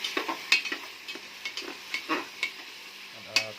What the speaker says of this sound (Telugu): అటు వచ్చిన తర్వాత దాంట్లోకి వేసి కలుపుకోవాలి బాగా.